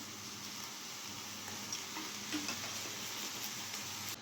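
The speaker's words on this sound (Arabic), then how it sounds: "بعد ما ساليت البصله ديالي كامله غادي نحطها تشحر" Chopped onion sautés in oil, making a soft, steady sizzle with faint stirring ticks throughout; no one speaks.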